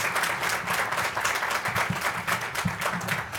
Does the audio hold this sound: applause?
yes